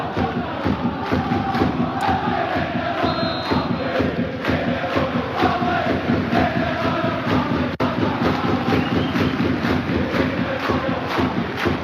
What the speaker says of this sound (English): they're saying if you hate the royal family, clap your hands